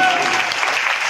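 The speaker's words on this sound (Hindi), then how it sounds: "जोरदार ताली के साथ" Loud audience applause at a Mehandipur Balaji devotional gathering, a dense, continuous burst of clapping heard close and alone for about a second.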